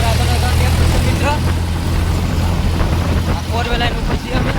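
Three Mahindra tractors climb a hill road, their engines a steady, loud low drone with wind buffeting throughout and a voice talking over it.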